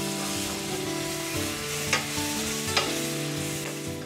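Ingredients for ghee rice sauté in a pan with a constant soft sizzle, broken by occasional scrapes of a stirring spoon, close but moderate in level, with no talking.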